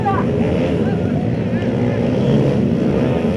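Dirt bikes race at a national-level event held for a Basaveshwara village fair, their engines a continuous loud drone as a voice speaks over them.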